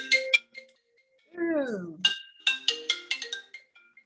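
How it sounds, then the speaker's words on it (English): A phone ringtone plays a chirpy melodic phrase of bright repeated notes, loud and close. A voice briefly exclaims between the notes. "Not quite sure who's ringing me at the moment"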